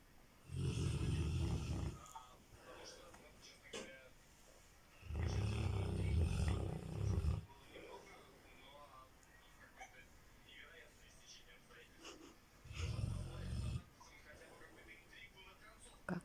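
A man snores loudly in three long, heavy rasping bursts spaced several seconds apart, with quieter breathing and faint background noise between them.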